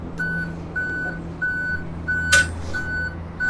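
The Queen Creek Fire and Medical ladder truck, Ladder 411, sounds a repeated electronic warning beep at a steady rhythm over a low engine idle, with a brief hiss of air midway.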